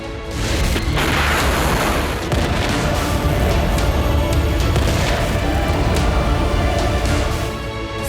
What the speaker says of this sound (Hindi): तेल अवीव में आया विकराल बारूदी बवंडर